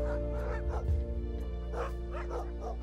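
Sled dogs bark, yip and whimper close by at a glacier mushing camp, with several excited bursts over a steady low rumble.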